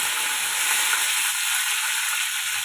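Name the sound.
curry leaves crackling in hot oil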